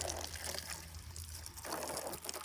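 Water sprinkles and trickles onto farm ground at a homestead during a heat wave, a soft, steady splashing hiss with faint gurgling, heard alone at low volume.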